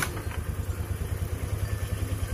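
A carbureted Honda Beat scooter engine, freshly serviced, running just after being kick-started, with a steady close putter and light mechanical clatter at a fast even pulse, no talking.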